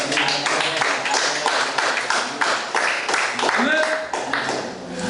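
A church congregation claps and cheers for the Lord, with steady, lively clapping layered under voices and singing.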